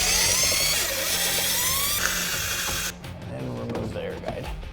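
A 7mm socket spins out air guide screws behind the radiator of a C7 Corvette Stingray, a close mechanical whirring and ratcheting for about three seconds that then drops away, leaving quieter handling noise.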